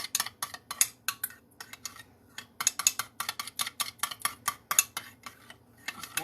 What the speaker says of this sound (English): Let's go ahead and stir up what we have here so far.